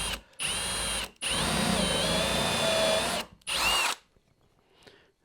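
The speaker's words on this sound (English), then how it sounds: "So all I need to do is drill some diagonal holes in here" A power drill whirs loudly in three bursts, drilling diagonal screw holes in a wooden thin strip jig, with short pauses between, its motor pitch shifting as it bites in, then a faint clatter.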